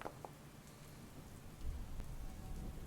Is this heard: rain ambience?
yes